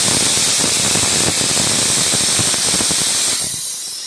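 Loud, steady steam hiss from a pressure cooker whistle boiling chickpeas and peas, a dense broadband rush that holds for several seconds and then eases off toward the end, with no voices.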